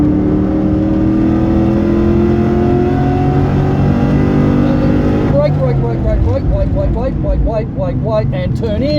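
A car on full throttle at a Wakefield Park track day builds a rising, loud engine drone, and a voice talks over the engine noise during the second half.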